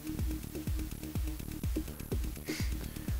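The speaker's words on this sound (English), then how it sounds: "That is StudioTan making everything brighter way down there." StudioTan dither plugin noise at a very low level, with a bright character: faint music with a steady pulse of deep thumping beats sits under a grainy, hissy noise layer.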